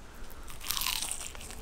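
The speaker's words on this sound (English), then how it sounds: "The potatoes are super crunchy." Close, crisp crunching of fried potatoes seasoned with scotch bonnet and garlic being bitten and chewed, a dense run of brittle cracks growing louder midway, with no talking.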